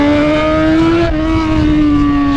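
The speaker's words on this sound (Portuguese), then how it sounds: "XJ, se acelera, ela dá o grau." Yamaha XJ6 motorcycle engine revving loudly up close, a strong steady tone that rises and then eases off slightly, with no voices.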